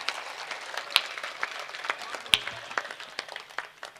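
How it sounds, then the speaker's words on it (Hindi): Applause from the audience at a Hindi kavi sammelan, a poetry gathering, comes as a light, scattered patter of claps with a few louder individual claps, fairly faint and sparse. "पूरा सदन हाथ खड़े करके जोरदार तालियां बजाए"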